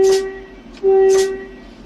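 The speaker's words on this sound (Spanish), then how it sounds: "No olvides la bocina." A train horn blasts twice, loud and close, a short tone followed by a longer sustained one, as the train on the Salamanca to Canfranc line prepares to start moving.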